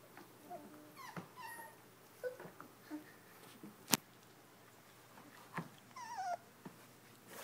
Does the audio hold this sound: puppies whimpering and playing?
yes